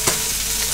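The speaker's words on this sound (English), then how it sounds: "Griddle frying some steaks, nothing fancy." Steaks frying on a griddle give off a brief, close, steady sizzle with a faint scrape or stir near the start.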